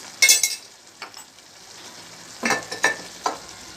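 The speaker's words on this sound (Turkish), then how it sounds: "İyice karıştırıp inceltiyoruz" Yogurt mixture for Adıyaman-style yogurt soup is stirred and whisked in a pot, with a few short bursts of scraping and clinking separated by quiet gaps.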